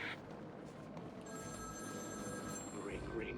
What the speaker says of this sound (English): Ring, ring, ring. Find my phone, Batman.